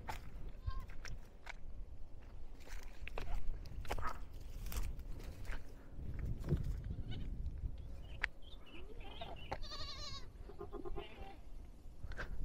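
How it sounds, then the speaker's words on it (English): Goats from a neighboring community in Nigeria bleat outdoors, with scattered calls building to clearer, repeated bleats near the end, over rumbling wind and handling noise and faint voices. "These are goats"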